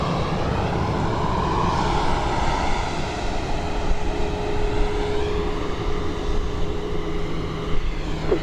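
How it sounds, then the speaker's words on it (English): A JSX Embraer 145 regional jet comes in to land, a loud sustained engine roar with a broad rushing whine that slowly shifts in pitch, with no talk over it. "That was coming in from Las Vegas, flight 203. That JSX Embraer 145."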